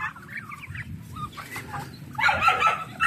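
Hungry native chickens cluck and call nearby, a soft run of calls early on and then a louder burst of overlapping clucks toward the end, with a low rumble underneath.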